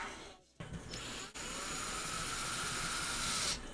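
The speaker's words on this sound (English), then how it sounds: "This goes a lot faster with an electric drill than it does using your hands." An electric drill spins a rebuilt Traxxas 2WD RC car transmission, giving a steady, loud whirring drone after a brief start, running nearly three seconds alone before cutting off.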